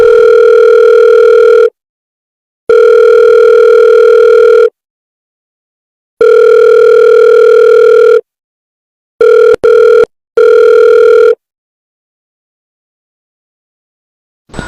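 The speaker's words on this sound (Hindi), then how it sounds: "हम लोग सीधा जाएंगे डॉक्टर लिम को फोन करेंगे" Telephone line tone heard while placing a call: loud, steady electronic tone bursts repeating in an on-off cadence with silent gaps, then a few shorter broken bursts near the end.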